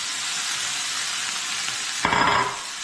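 Finely chopped ingredients sizzle steadily in warm oil, a broad continuous frying hiss that swells louder as more food is added near the end.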